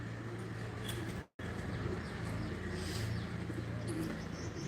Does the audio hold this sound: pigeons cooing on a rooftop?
yes